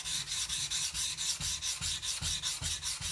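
Steel blade rubbed back and forth on a coarse Shapton Pro 120 sharpening stone, producing a loud, gritty rasping scrape in an even, regular rhythm of about seven strokes, with no talking.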